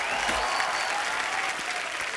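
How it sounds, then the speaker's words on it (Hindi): A studio audience at a comedy talk show breaks into loud applause, a thick, even wash of many hands clapping close by that carries through without pause and without speech over it. "आप सबकी जोरदार तालियों के बीच"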